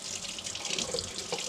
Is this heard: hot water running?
yes